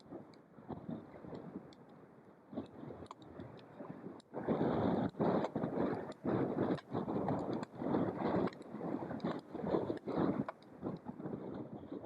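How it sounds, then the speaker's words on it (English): A Humber pilot boat arrives in the tidal basin at Grimsby Docks, its engine a low, steady rumble broken by bursts of wind buffeting the microphone. "Arriving in the tidal basin is one of the pilot boats that work on the River Humber."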